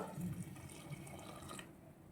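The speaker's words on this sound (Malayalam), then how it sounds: "ഞാനിപ്പോൾ ഇതിലേക്ക് കുറച്ച് പാലേ ഇപ്പോൾ ഒഴിക്കുന്നുള്ളൂ" Hot milk pours into a jackfruit payasam mixture in a faint, steady liquid trickle that fades out after about two seconds.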